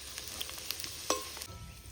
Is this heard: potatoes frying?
yes